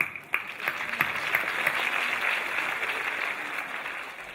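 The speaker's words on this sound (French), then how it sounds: "C'est moi qui vous applaudis." An arena audience at a stage show of La Reine des Neiges at the Zénith applauds steadily, a thick even wash of clapping with a few sharper claps standing out at the start.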